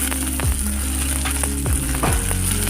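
Sambar spices, coriander and cumin powder, stirred into dal in a pan, giving a steady sizzle with several distinct scraping strokes of a spoon against the pan, close and alone with no talk.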